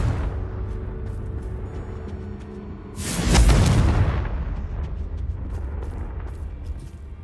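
A single loud explosion from the Confringo blasting spell in Hogwarts Legacy, a sudden deep boom with a burst of crackle that fades into a low rumble over a quiet ambient background.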